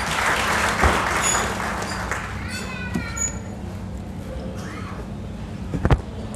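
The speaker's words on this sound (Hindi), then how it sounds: "जोरदार ताली बजाकर एक बार स्वागत कीजिए" A crowd at a joint rally of social organisations on the constitution and democracy claps to welcome a speaker. The applause is dense at first, then thins and fades as a voice starts speaking.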